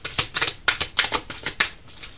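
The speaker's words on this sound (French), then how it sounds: "On va essayer de tirer une carte d'oracle." Oracle card drawn from a deck, heard as a run of crisp, closely spaced card snaps and flicks, near and clear, with no talking over them.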